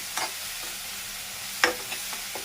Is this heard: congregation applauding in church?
no